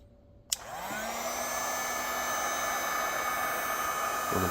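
A heat gun clicks on and blows a steady, close hissing roar with a faint whine while warming the wood ring of an Edison Music Master phonograph horn, running on evenly without talk.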